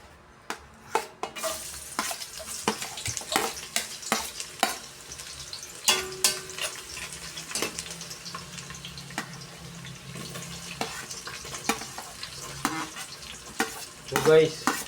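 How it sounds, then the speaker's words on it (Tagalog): Garlic and onion sauté in a pan with a constant sizzle broken by repeated sharp clacks and scrapes of a stirring utensil, close and busy, with a brief tap or drip sound and no talking. "So guys, gigisa natin bawang,"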